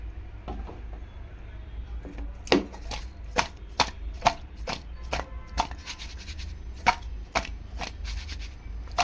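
Small bele fish tossed with spices by shaking them in a container: a close, irregular run of soft rattling, clattering knocks over a low steady hum, with no talking.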